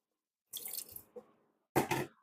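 Water splashes into a blender holding ginger in two short pours, a longer splashy burst then a second louder gush, close and with no talking.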